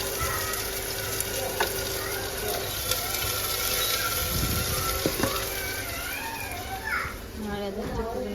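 Onion hits hot oil with star anise in a pan on an induction cooker, a steady sizzle running under background chatter and children's voices nearby.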